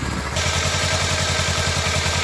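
Kawasaki Ninja 300 motorcycle engine idling close by, a steady rapid pulsing putter with light mechanical clatter, constant in level, with no talk.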